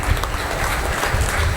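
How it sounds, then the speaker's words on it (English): Brief burst of audience applause at an EFI inkjet advisory board event, a steady wash of clapping at moderate level with no clear talk over it. "Give a huge round of applause,"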